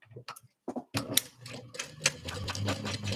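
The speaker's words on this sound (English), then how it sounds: "I'm going to stitch it across the top just to get it on" A sewing machine stitches across the top of a tote, basting a piece in place, in short stop-start bursts at first and then a steadier close run of rapid stitching.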